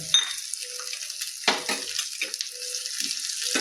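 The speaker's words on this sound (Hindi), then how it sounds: "एकरा मिला देबै। मध्यमे आंच पर एकरा भुजबाक छै।" Bottle gourd with poppy seeds roasts over medium heat in a pan, giving a steady close sizzle broken by a few scraping stirs and light clinks, with no talking over it.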